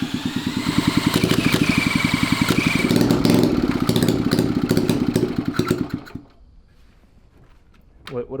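A worn engine with poorly sealing valves sputters and chugs on a dose of brake parts cleaner, a loud rapid uneven putter for several seconds that dies away into near silence before a brief restart noise.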